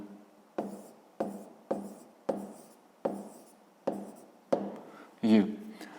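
A pen writing an answer on paper during a fifth-grade maths exercise, a series of about eight regular scratchy strokes, each starting sharply and fading, close and clear.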